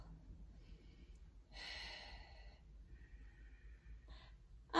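Breathing during an abdominal exercise: a quiet inhale, then a strong audible exhale, followed by softer breaths, faint and close.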